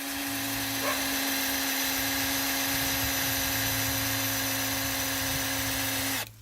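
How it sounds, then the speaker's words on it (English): A cordless drill runs steadily as it bores an angled tap hole into a maple tree in the countryside. A loud, continuous whine holds for about six seconds and then stops abruptly. "let's drill that hole"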